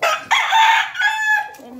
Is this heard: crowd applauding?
no